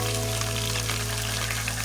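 Onions sautéing in melted butter in a pot, a steady soft sizzle with a constant low kitchen hum, close and brief with no talk.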